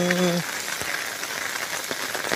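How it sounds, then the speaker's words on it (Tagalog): Heavy rain from a low pressure system pours down steadily on Burias Island, a dense continuous hiss filling the scene, with a brief voice or tone near the start. "Lakas ng ulan, no?"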